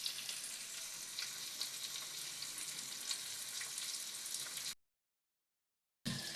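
Onions fry in a pan with a dense, even hissing sizzle, close and steady for several seconds before a brief silence and a sudden noise at the end, with no talking.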